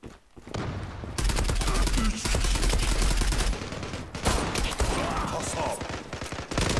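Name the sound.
gunfire from a video game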